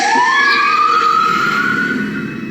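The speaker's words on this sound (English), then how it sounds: "Oh, fire truck." A fire truck siren wails loudly and up close, its tone rising steadily and then holding high as the vehicle passes, with faint traffic noise beneath.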